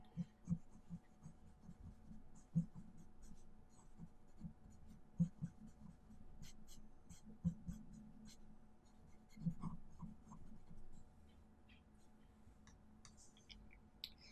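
A cotton bud rubs graphite shading into the white of an eye on a pencil portrait drawing on paper, giving faint repeated scratchy strokes with soft ticking taps, close and quiet with no talking.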